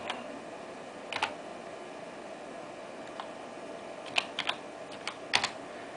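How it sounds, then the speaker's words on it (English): Keys are tapped on a computer keyboard in a quiet room, a few sparse clicks early and then a short quick burst of keystrokes near the end, close and crisp. "let's type in ST"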